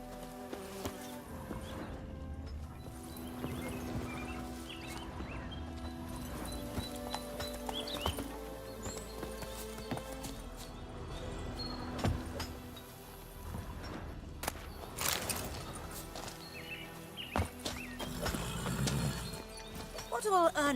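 Roach, a horse in the video game The Witcher 3, gallops with steady hoof clatter under dense game music and effects, with a possible brief whinny and a voice speaking over it.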